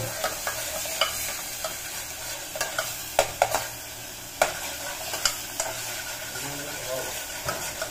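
Stirring Indian food with turmeric powder in a pot, a sizzling bed under repeated spoon clacks and scrapes against the pot at an irregular rhythm, with faint voices in the background.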